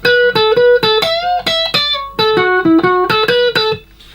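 A solo electric guitar plays a quick melodic phrase of separate picked notes, some bent upward in pitch, with clear attacks and a brief fade at the end.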